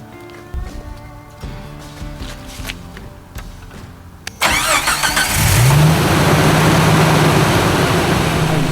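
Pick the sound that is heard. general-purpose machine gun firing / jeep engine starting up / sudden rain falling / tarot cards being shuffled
jeep engine starting up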